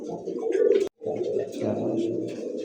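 A pair of golden pigeons, held in hand at a pigeon seller's, give low rounded coos in two close bursts separated by a brief gap.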